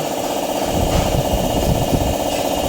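A 15-year-old air compressor running after an overhaul, a loud, steady, rough mechanical chugging close by that continues throughout with no talk.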